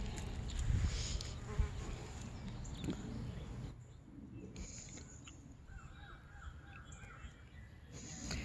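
A steady low buzzing of bees close by, pollinating lavender blooms, with occasional bird calls in the background.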